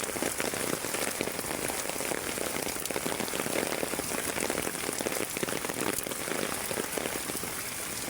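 Heavy, unbroken rain pours down on surfaces outdoors, a dense, loud, steady hiss with scattered drips and patters and no break or voices throughout.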